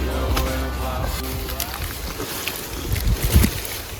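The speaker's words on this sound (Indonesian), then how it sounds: "sengaja tidak kami tambahkan sound tambahan supaya kalian semua bisa mendengarkan suara anginnya" Strong mountain wind buffets the microphone on Mount Lawu in cold, drizzly weather, a loud continuous roar with gusting bursts and rumbles throughout.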